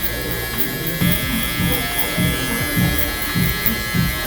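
Electric hair clippers fitted with a 2 guard, lever open, running during a taper fade haircut: a steady close buzz with rhythmic low pulses as strokes pass through hair, about one every half second.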